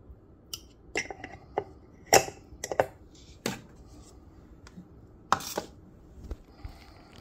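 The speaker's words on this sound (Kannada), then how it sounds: "ಅದನ್ನು ಚಾಪರಲ್ಲಿ ಹಾಕಿ ಚಾಪ್ ಮಾಡ್ತೀನಿ" Green chillies, curry leaves and coriander being chopped in a hand food chopper, a series of sharp, irregular clacking chops spaced through the clip, close and fairly quiet, with no talking.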